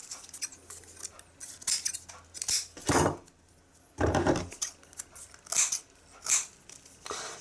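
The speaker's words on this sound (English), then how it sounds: "I've now got a pair of these retro metal ones that, now they've been restored and sharpened, also cut." A pair of restored, sharpened retro metal scissors cuts in several separate bursts of crisp snipping and rustling, close up, with quiet pauses between them and no talk.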